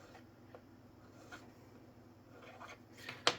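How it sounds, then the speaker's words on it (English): A small metal stirrup piece on an Athearn Blue Box 62-foot model train tank car filed by hand, soft rhythmic rasping strokes, quiet and close, ending in a brief sharper scrape. "Hopefully not too much filing, because I want this to fit."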